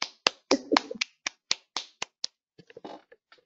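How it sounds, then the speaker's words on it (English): One person claps alone at the end of a lecture on LI-RADS liver imaging cases. About a dozen close, crisp claps come at an uneven rhythm, followed by a few softer, scattered taps. No one talks. "I'm clapping on behalf of everyone"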